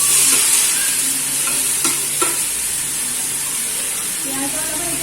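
Onions dropped into a hot kadai sizzle loudly with a steady frying hiss and occasional stirring scrapes, close up.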